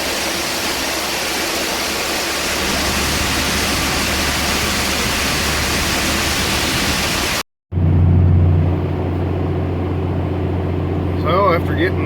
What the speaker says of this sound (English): Dumping corn.